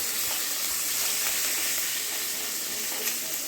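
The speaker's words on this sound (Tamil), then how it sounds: "பெரிய வெங்காயம் போட்டுக்கலாம். போட்டு கொஞ்சம் வதக்கிக்கலாம்" Chopped big onions sautéing in oil in a pan for a pumpkin stir-fry, producing a steady, close hiss and sizzle that stays even throughout, with no talking.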